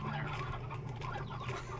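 Chickens clucking in the video game Slime Rancher, a steady busy cackle of several birds close by over a continuous low hum, with no talk.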